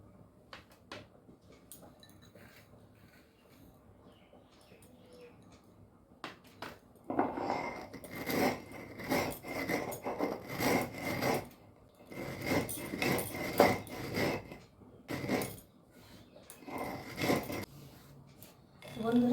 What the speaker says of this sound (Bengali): প্রথমে আমি এই চিনিগুলো বেটে নিচ্ছি।